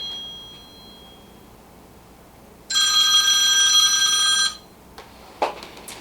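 A work phone rings indoors with one loud, electronic, bell-like trill lasting about two seconds, close and clear over quiet room tone, followed by a couple of small clicks.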